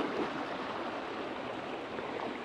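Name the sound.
water flowing in at a pond inlet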